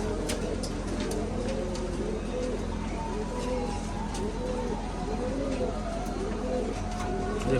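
Blue pigeons in a breeding loft give repeated rolling coos, one after another, close by over a constant low hum, with no clear talk.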